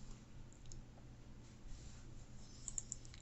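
Faint, sparse mouse clicks while working in ANSYS structural analysis software, a few soft taps spread over a quiet background hum.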